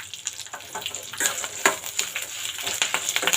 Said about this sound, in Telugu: కరివేపాకు బాగా వేగాలి